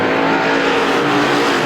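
Race cars on the Star Speedway oval track during a feature race, a loud continuous engine roar holding steady as the field passes close by.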